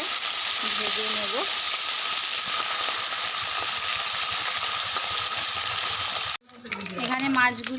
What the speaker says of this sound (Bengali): তেলটা গরম হয়ে গেছে, মাছগুলো একে একে করে সব দিয়ে ভালো করে ভেজে নেব।